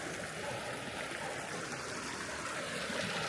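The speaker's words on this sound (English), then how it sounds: "here's our river. It's flowing." Homestead river flowing at midnight: a steady, even rush of running water with a dense hiss, moderately close and unbroken, with no talk.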